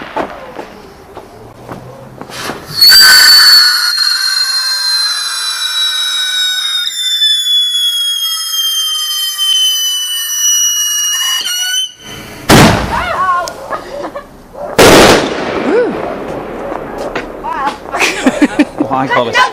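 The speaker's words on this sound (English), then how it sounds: "Right, so we've got 2 left now, I've got 1 rocket left." A firework rocket on Bonfire Night gives a loud rising screech of several seconds with whistling overtones, then cuts off, followed by sharp bangs and crackling bursts, with people talking nearby.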